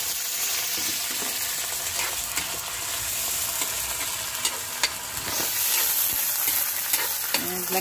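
Sardines fry in a pan while being stirred: a close, continuous sizzle broken by scraping stir strokes, with no voices.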